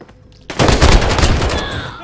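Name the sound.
gunfire in the video game Call of Duty Warzone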